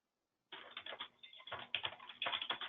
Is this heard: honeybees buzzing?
no